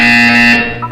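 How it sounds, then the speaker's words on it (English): A single loud, harsh electronic buzzer blares in the Portal 2 video game, a steady tonal drone lasting under a second before cutting off. "When you hear the buzzer, look down at the floor."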